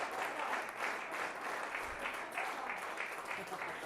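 Steady audience applause rolls on throughout at a business gathering for a presidential handover, a dense wash of many hands clapping at moderate distance with faint voices mixed in.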